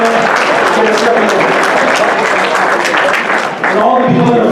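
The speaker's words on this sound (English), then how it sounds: "Give him a round of applause." Audience applause at a charity event in Surrey, loud sustained clapping from a crowd filling the whole stretch, easing briefly near the end before picking up again.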